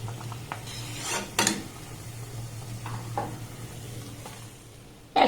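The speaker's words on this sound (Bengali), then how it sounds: "দেখুন মালপোয়াগুলোকে আমি খুব সুন্দর লাল লাল করে ভেজে নিয়েছি" Malpua batter cakes frying in oil in a pan give a steady low sizzle, punctuated by a few brief clinks and scrapes of a utensil against the pan.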